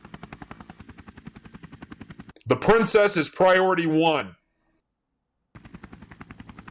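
Helicopter rotor chop and rapid gunfire from the video game Neofeud, a steady pulsing thump behind a short burst of speech, cutting out briefly before the rotor pulse returns.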